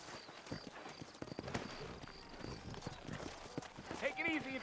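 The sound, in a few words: horses trotting in Red Dead Redemption video game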